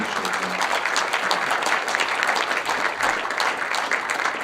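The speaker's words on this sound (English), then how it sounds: "let's give them another round of applause" Sustained applause from a crowd at an Eastland County judge candidates debate, dense steady clapping filling the room for several seconds without pause.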